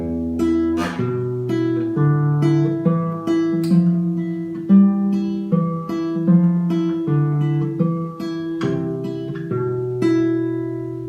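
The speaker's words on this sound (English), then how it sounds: "So you can kind of hear the scale moving up and down." A classical guitar plays the Spanish Etude scale up and down, a fast, continuous run of plucked notes at a clear, even volume with no talking.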